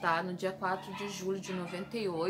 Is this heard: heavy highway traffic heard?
no